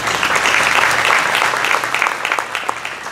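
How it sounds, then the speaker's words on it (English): An audience at a scholar-athlete award presentation applauds loudly and continuously, a dense wash of many hands clapping with a few sharper individual claps rising and falling toward the end. "Give her a round of applause."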